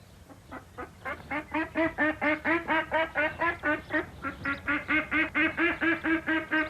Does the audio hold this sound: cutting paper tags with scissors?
no